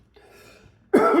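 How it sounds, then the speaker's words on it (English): A single loud, harsh cough bursts out near the end, close and raspy, after nearly a second of faint murmur and quiet room sound. "I'm coughing up a lung."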